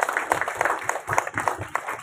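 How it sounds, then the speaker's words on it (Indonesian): A few people clap at the opening of a district Quran recitation competition (MTQ) event in South Semarang, brisk uneven claps close by, short and moderately loud. "Tepuk tangan untuk kita semuanya."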